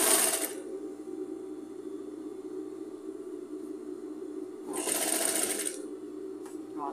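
A sewing machine stitches fabric scraps into a bath rug, a steady close mechanical whir running throughout, with two bright rattling bursts near the start and again near the end.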